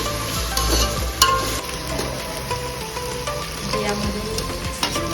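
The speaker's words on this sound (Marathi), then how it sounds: "आणि आता कांदा 2-3 मिनिटं चांगला परतून घ्यायचा, लाल तांबूस कलर येईपर्यंत." Onions sauté in an oiled pan for pav bhaji, a continuous close sizzle broken by occasional scrapes and stirs of the spoon.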